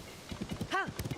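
Horse hooves from the video game Time Link beat out a quick, light clip-clop rhythm, with a short high whinny-like call rising in the middle, all fairly quiet.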